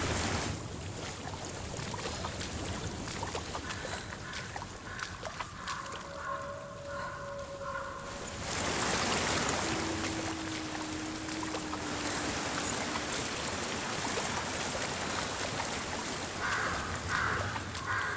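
Broad, steady rush of water and wind by a stream in the dark fantasy game Hellblade: Senua's Sacrifice, continuous and fairly close, with a few faint tonal calls over it and no talking.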